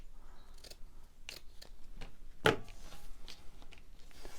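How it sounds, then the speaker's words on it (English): Scissors trimming a piece off a pre-made fabric cluster for junk journal ephemera, a few quiet close snips with one sharper cut standing out midway against a faint background. "Let's cut a bit of that off."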